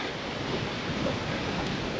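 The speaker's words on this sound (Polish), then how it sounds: "Jest piękny wodospad." Steady rushing water roars broadband and continuous, like a waterfall close by, with a wind-like hiss and no voices; an alpine waterfall near Maso Corto, Italy, below the glaciers.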